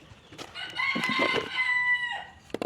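Hens being let out of their coop give a steady stretch of loud, close clucking and squawking, with one long crow-like call drawn out in the middle and a few sharp knocks near the end.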